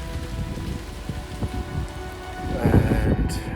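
Steady rain pours down outdoors during a cold, windy fallow deer rut, a dense continuous hiss with scattered drop impacts that grows heavier and louder toward the end, with no voices.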